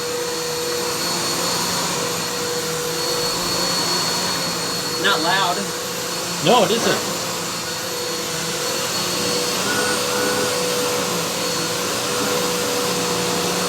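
An upright vacuum cleaner runs on carpet with a steady loud motor whine and airflow roar throughout, while people talk briefly over it.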